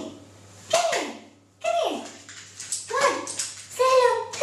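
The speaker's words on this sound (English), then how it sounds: "that is my dog, if you can hear her in the background." A pet dog in a kitchen whimpers and gives short yelps in several bursts, up close, with a person talking over it.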